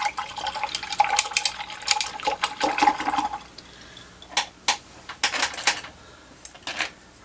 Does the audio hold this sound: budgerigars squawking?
no